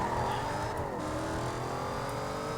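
A car accelerates hard in Need For Speed Most Wanted: a steady engine tone climbs in pitch through the gears, close and prominent, with a short dip in the middle as it shifts, and no talk over it.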